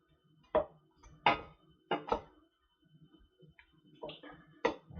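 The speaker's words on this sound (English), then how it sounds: "just keep breaking this mince up. Keep stirring it." Minced beef being stirred and broken up in a pan for chili, sparse sharp spoon taps and scrapes against the pan with quiet sizzling between them.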